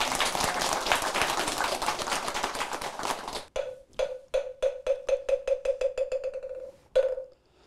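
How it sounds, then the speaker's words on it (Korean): A Buddhist TV lecture audience claps in a dense burst for a few seconds, then it breaks into a handful of distinct, spaced single claps that fade out, with a final clap after a short pause. "박수 한번 보내겠네"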